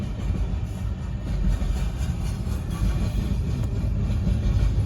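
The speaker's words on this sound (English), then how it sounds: "So here's the end of the train." A BNSF coal train rolls past at Colebrook, a loud, steady low rumble of heavy cars with faint rail clatter as the end of the train goes by, no voices.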